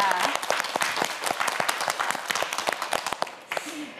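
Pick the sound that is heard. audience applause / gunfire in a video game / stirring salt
audience applause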